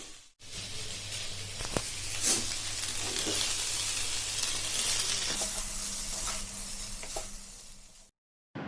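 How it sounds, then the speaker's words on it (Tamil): Macaroni stirred into spicy frying masala in a pan sizzles loudly and continuously up close, with scraping stirs through the sizzle, before the sound cuts off abruptly near the end. "இப்போ மக்ரோனியை நல்லா கலந்து விடலாம்."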